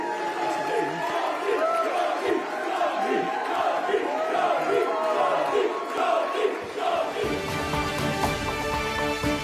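Opponents at an election count for Jess Phillips in Birmingham Yardley boo and jeer, a loud, dense crowd roar of shouting voices that swells and rolls continuously, giving way to a different sound near the end.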